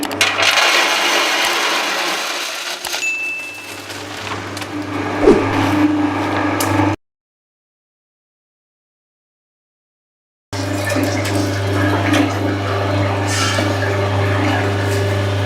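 An oil extraction machine presses groundnuts with a constant mechanical hum and some faint rattling. The sound is interrupted by a few seconds of silence and then continues at the same steady level.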